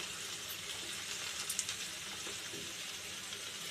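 Steady, hissing fry of potatoes and taro in a pan, continuous and close, with a faint clink or stir midway.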